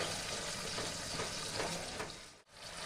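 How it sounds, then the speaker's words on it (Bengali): Spice paste with beaten sour yogurt, being stir-fried in a pan for a Bengali jackfruit curry: a dense, continuous sizzle and crackle at close range, broken by a brief drop near the end. "এবার আমি মশলাটা ভালো করে কষাতে থাকবো"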